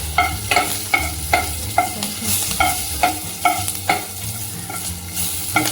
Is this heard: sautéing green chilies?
yes